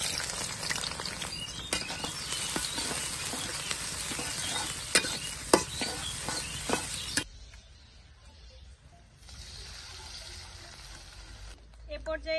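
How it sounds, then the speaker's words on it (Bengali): Chopped onions hit hot oil in a pan for a country-style home meal, sizzling loudly and steadily for about seven seconds amid stirring scrapes and clicks, then the frying settles to a quieter, softer crackle. "এখন দিয়ে দিচ্ছি পেঁয়াজ কুচি।"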